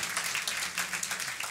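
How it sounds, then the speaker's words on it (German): Studio audience at a live stand-up comedy show in a laundromat venue claps together, a fairly soft, even patter of many hands with slight swells, no voices over it. "Einmal klatschen, bitte."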